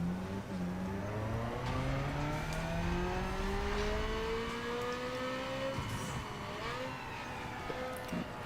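Nissan Skyline R34 engine revving on a dyno in Need for Speed Underground 2, a steady loud drone climbing slowly in pitch through the gears before a brief drop and shift, with no talking.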